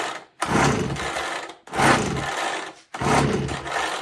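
A Ryobi BP42 leaf blower's small two-stroke engine, fitted with a new carburetor, is pulled over three times in a row; each loud, rough burst of cranking noise stops short, with no talk.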